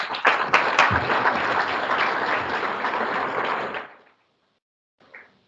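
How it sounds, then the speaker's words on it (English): A conference audience breaks into a round of applause that holds steady for nearly four seconds, then cuts off into silence, with a faint short sound after it. "Another round of applause."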